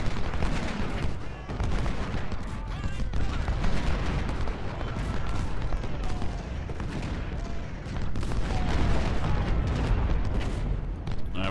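Civil War artillery and gunfire in Ultimate General: Civil War, a dense continuous barrage of cannon booms and rattling volleys, loud and unbroken for the whole stretch.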